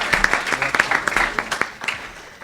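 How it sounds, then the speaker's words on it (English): Audience applause at a tech summit in New York, a short burst of scattered, uneven claps close by with a voice speaking over it. "give them all a round of applause here"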